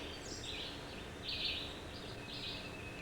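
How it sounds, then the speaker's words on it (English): Birds sing outdoors near a spring, their high warbling phrases repeating in faint bursts over a steady background hiss. "Listen to them beautiful birds."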